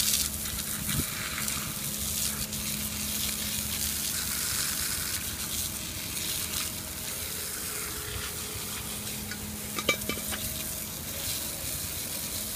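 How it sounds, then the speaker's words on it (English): Garden hose water spraying over brass marine parts to rinse them, a steady hissing splash throughout with a faint brief clink near the end. "Get your little garden hose."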